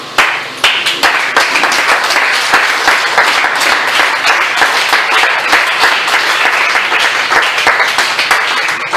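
A church congregation stands and applauds the Lord, with dense, sustained clapping from many hands filling the space loudly and evenly from start to finish.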